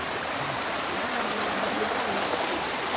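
Secret Falls near Baliti Falls in San Jose del Monte, Bulacan, a steady, loud rush of falling water that fills the scene without pause.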